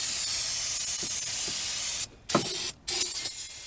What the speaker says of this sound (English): Just spray it down really good.